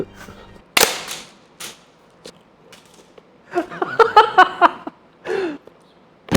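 One sharp, loud gunshot is fired at a replica Helldiver armor piece, followed by voices talking and laughing with a few scattered knocks and bursts of chatter.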